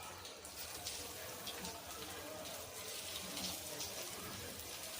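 Surmai fish pieces coated in rava and rice flour frying in hot oil, a steady broadband sizzle that runs continuously at moderate level with no talk.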